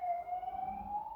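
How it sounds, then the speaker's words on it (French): Siren passing outside, a faint steady wailing tone slowly rising in pitch, heard from a distance with no speech over it. "on va laisser passer les sirènes."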